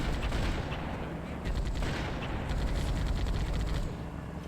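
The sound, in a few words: gunfire from the Halo video game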